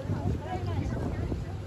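Wind blows across the deck of a tour boat on the Longyangxia reservoir lake of the Yellow River, a steady rumbling buffet on the microphone with a faint voice underneath.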